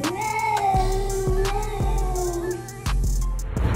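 A cat lets out a long, drawn-out meow up close, its wavering cry sustained for a couple of seconds, with sharp knocks and clatter around it and a brief noise at the end.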